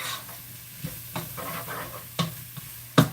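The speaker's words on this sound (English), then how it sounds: "I always saute my smoked meat and my onions" Smoked meat and onions sauté in a pot while a utensil stirs them, producing a soft continuous sizzle broken by several scraping knocks and clatters that grow louder toward the end.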